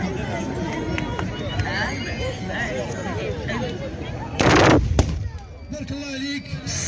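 At a Moroccan moussem, tbourida horsemen fire their muskets in one brief, loud, cracking volley, heard over a crowd chattering and calling out before and after.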